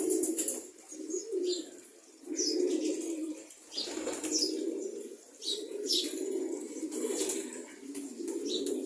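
Several pigeons coo steadily in a low, rolling rhythm, with brief chirps and wing flaps mixed in, all fairly close and with no talking.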